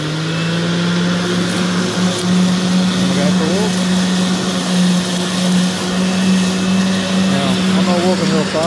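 A Makita DLM536 self-propelled lawn mower drives along in gear with a steady, close motor whine and hum, while someone talks over it.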